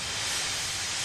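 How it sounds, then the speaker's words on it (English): An animated Thomas and Friends steam engine lets off a continuous loud hiss of steam, broad and steady from start to end, with no voices. "Gordon wheeshed some steam and pulled out of the station."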